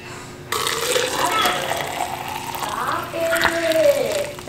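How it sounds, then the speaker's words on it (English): Hot water is poured into a mug of tea, the gurgling pour rising in pitch as the cup fills, close by and moderately loud. "I'm about to be pouring my water in."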